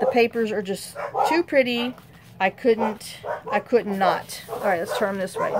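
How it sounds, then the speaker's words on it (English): Dogs bark in a home, sharp repeated barks and yips mixed in with someone talking over them at close range. "Excuse the dogs."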